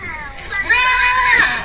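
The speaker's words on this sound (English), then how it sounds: "Is that the Screaming Goats?" Screaming goats sound effect with bass boost, a burst of harsh bleating cries rising and wavering over about a second and a half, loud and close with no talk.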